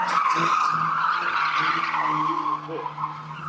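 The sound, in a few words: stock car sliding out at the rear mid-corner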